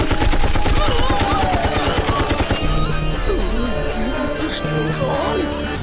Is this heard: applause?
no